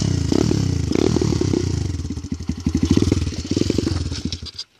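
A Kymco Mongoose 90 ATV engine idles too low, its rough, uneven putter of irregular pulses sounding close and loud before it dies out near the end.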